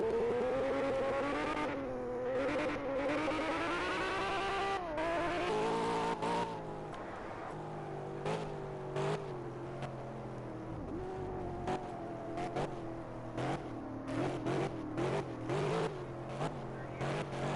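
Race cars roar through a PS4 racing game, engines revving and shifting gears in rising and falling whines, with tire squeals and brief skids, a continuous loud mix of several cars.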